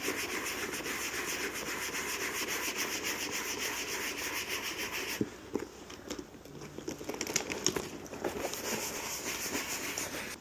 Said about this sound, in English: just the texture of this brush does so much to try to even out even scratches or anything on leather